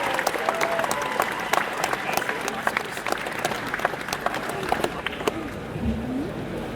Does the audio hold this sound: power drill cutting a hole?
no